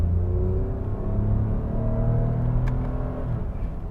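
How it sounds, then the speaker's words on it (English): A 2020 Lexus RX 350L with an 8-speed automatic accelerates, its engine a steady low rumble with rising drone bands, heard continuously from inside the cabin with no talk. "The 8-speed is very shifty, very quick shifting, 8-speed automatic transmission."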